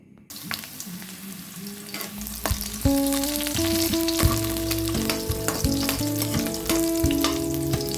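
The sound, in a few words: garlic frying in hot oil in a pan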